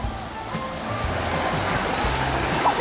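Ocean waves surge onto a shore in a loud, steady rush of surf that fills the whole stretch without a break.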